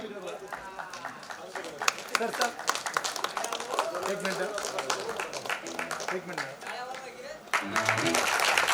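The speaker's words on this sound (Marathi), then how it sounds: "जोरदार टाळ्या झाल्या मित्रांनो" An audience at a prize announcement claps in a sustained round of applause, with talk carrying over it and a louder swell near the end.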